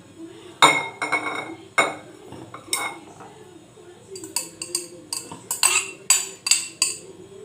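Boiled Maggi noodles tipped into a pan and mixed, giving repeated metallic clanks and scrapes of a utensil against the pan in an uneven rhythm, close and fairly loud, with no one speaking.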